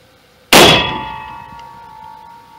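A propane tank struck in a zombie video game gives one loud metallic clang with a sharp attack, then a long ringing tone that slowly fades over about two seconds.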